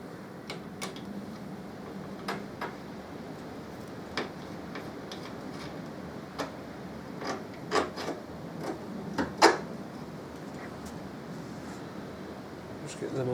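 Bolts being worked loose from the fuel tank of a 2013 Harley-Davidson FLD Switchback, giving a scattered run of small metallic ticks and scrapes at close range over a steady low background.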